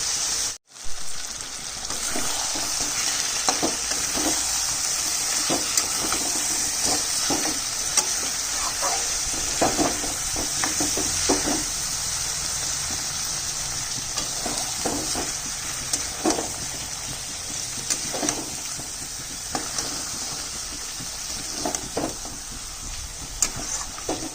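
Mutton stir-fried with lemon juice in a pan for a thin goat curry, giving a steady close sizzle throughout, with repeated scraping stirs and faint clinks of the utensil against the metal.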